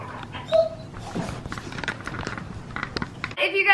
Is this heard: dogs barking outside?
yes